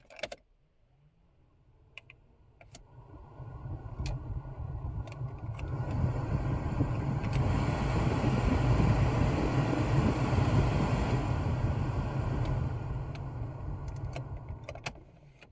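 Heater blower fan of a 1994 VW Golf 3 Variant, turned on with the car in accessory mode after replacement, spinning up to a steady, even whoosh with a few faint clicks.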